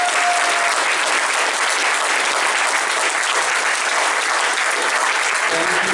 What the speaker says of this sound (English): Let's give all the candidates a warm round of applause.